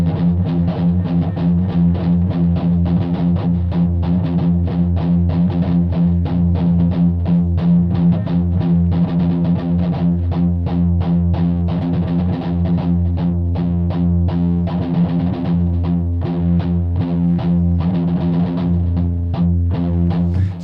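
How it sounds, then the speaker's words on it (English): A heavily distorted electric guitar plays continuously for about twenty seconds, loud and dense, with a steady chugging rhythm and no voices. "the cool thing about the distortion is you can really hear the muting of your string"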